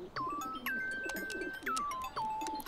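Pigeons coo in a steady run of repeated, rolling calls close by, with a few faint chirps and thin background noise, and no one talking.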